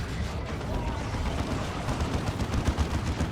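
Dense, rumbling grenade blasts and gunfire in a Dawn of War 2 battle, a constant low roar of distant explosions and shots with no clear gaps.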